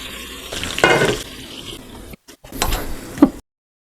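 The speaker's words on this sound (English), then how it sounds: "Give them a good sear." Chicken thighs searing skin-side down in a pan that they stick to, a close crackling sizzle with stirring and scraping sounds, then a short gap before the frying resumes and a pan knock lands near the end.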